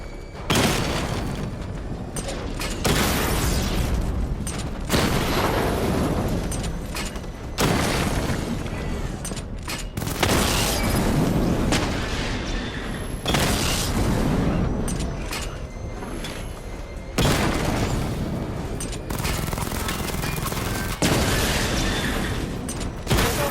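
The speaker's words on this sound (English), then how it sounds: "Charge the missile barrage to level 2 to destroy up to 4 targets at once" Repeated heavy missile-barrage explosions from Batman: Arkham Knight, loud booming bursts in quick clusters with brief gaps between volleys, rumbling and dense throughout.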